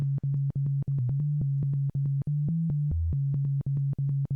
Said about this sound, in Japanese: ここで波形を選べます。 サイン波。